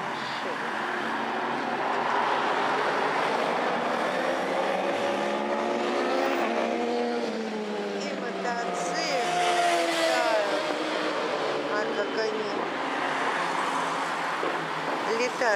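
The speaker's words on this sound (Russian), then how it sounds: "Вот такая красивая машина." Cars and traffic roll past on a busy central Moscow road, a continuous swelling engine and tyre roar with passing vehicles rising and fading, heard alone without talk.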